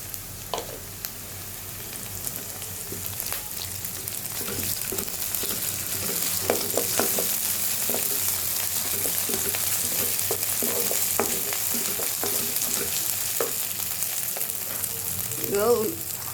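Onions frying with ginger-garlic paste and cumin in a pan produce a continuous close sizzle that grows louder partway through, with light stirring scrapes and a few utensil knocks, and no talk.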